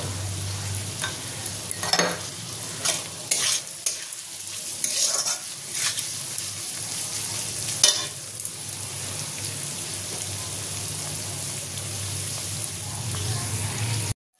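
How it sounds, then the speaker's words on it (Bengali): Vegetables with grated ginger and garlic fry in a pan for Schezwan fried rice, a steady close sizzle broken by repeated scraping stirs of a spatula, continuing without talk. "এবার এটা আমি হালকা ভেজে নেব।"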